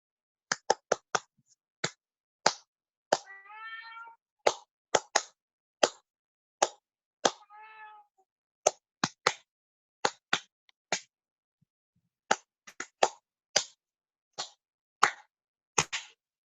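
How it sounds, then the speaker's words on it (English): A single person claps out a song's rhythm in a workshop, sharp isolated claps in an irregular pattern with short pauses, and a cat briefly meows twice in the background. "Clap the song, right? Clap it."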